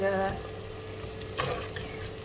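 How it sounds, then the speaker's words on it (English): Chopped onions sauté in a clay pot for lentil soup, a soft steady sizzle with faint stirring scrapes, quiet and close, with a brief tonal hum at the start. "cook the onion until it gets golden brown"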